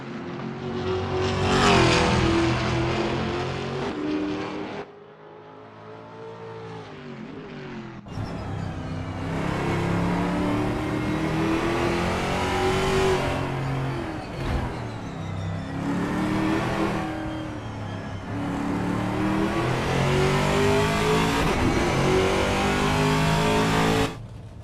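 Race car engines from V8 Supercars in the Assetto Corsa game at Hidden Valley Raceway, a loud sustained roar of several cars revving and shifting, dropping briefly to a quieter passage before swelling again.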